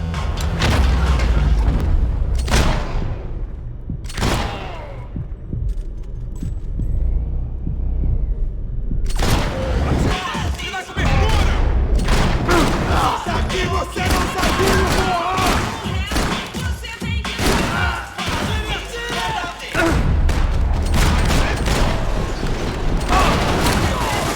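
Gunfire from the video game Max Payne 3: heavy booms and thuds, some isolated and others in rapid clustered bursts, loud and continuous with dense mechanical clatter through most of the stretch.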